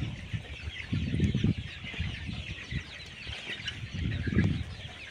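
Many layer pullet chickens on a 3,500-bird farm cluck and murmur together nearby, a continuous flock chatter with a few louder bursts.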